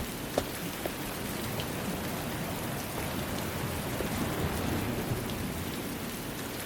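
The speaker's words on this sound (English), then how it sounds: "Why is it raining? Is that getting picked up on the audio?" Steady rain falls and patters on a surface as an even, dense wash of noise, with a few sharper drop hits and no talking.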